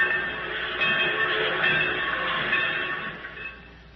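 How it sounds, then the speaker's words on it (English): A railroad yard evoked as a radio drama sound effect, trains rumbling with a steady mechanical clatter and hiss at moderate loudness, running alone for several seconds and easing slightly at the end. "In the railroad yard."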